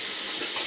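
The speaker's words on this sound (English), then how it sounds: "You add 1 can of water." Steady rush of a can of water pouring into a pot with pigeon peas for arroz con gandules, continuous and fairly close, with no voices.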